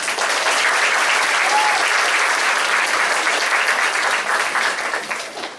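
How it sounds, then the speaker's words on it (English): Steady, full applause from a school concert audience thanking parent volunteers, a dense roar of many hands that holds for about five seconds and then tapers off at the end. "A round of applause for the volunteers."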